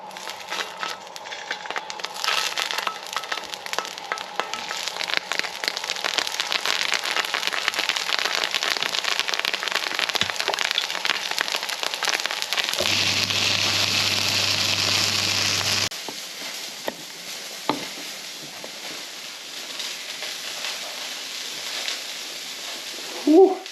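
Goat sausages fry in a pan with a dense, steady sizzle and crackle that holds for most of the stretch, then eases to a softer spit near the end.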